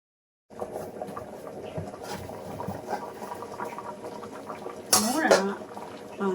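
Jackfruit seed gravy bubbles and simmers in a pan, a soft continuous burble with a sharp clatter of metal utensils midway.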